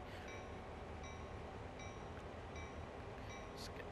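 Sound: locomotive train running in the video game Runaway Train 2

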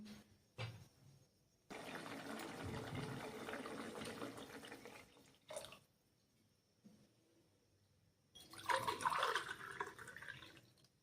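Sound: water being poured into the pot for matar pulao

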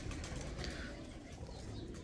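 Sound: pigeons cooing

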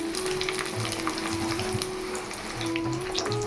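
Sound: frying lachha powder in oil

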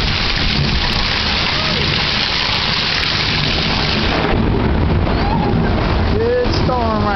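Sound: hail storm with rain in Florida

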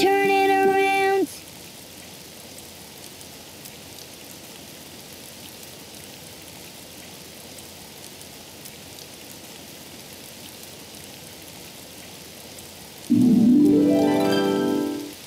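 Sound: rain falling outside

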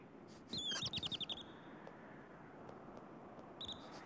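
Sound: marmot alarm whistles

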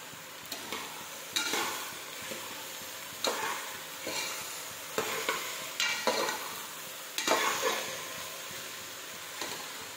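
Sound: ridge gourd and chana dal stirred and frying in pan

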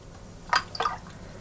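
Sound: rainwater added to crushed woad leaf balls for fermentation

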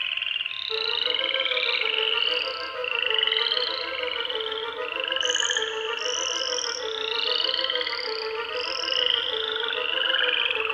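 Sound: frog croaking

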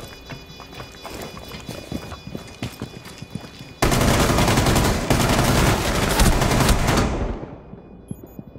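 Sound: gunfire in video game Rainbow Six Siege

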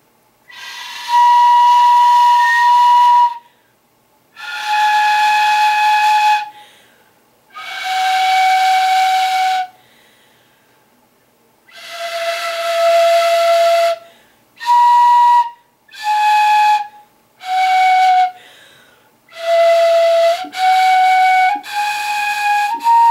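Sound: notes played on a Japanese fue flute

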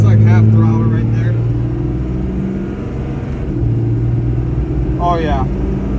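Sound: lifted Cummins diesel truck engine revving at half throttle

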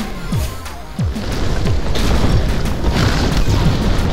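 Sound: rock spell direct hit explosion in Spellbreak video game

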